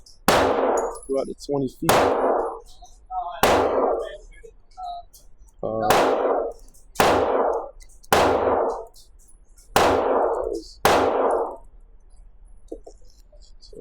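Gunshots from an IWI UZI PRO or Sig Sauer P320 Flux fired at a range target about 20 feet away, eight sharp, loud reports spaced roughly a second or two apart, with someone talking briefly between shots.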